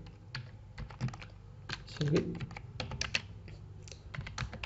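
Quick clicking keystrokes on a computer keyboard while typing in Microsoft Word, irregular bursts of close taps that continue under a voice talking.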